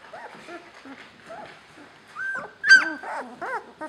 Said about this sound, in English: That's it for today's update on Chenille's puppies.